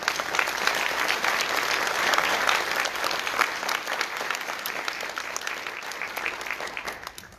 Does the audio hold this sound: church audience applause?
yes